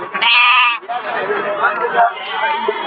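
Goats bleat loudly at a Friday livestock market in Ettayapuram, one long close bleat followed by busy crowd noise and someone talking over it.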